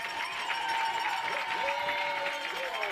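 Crowd cheering and applauding at a boys lacrosse semifinal in Orange County, a steady loud roar of voices and clapping throughout, with a few whistling tones rising above it.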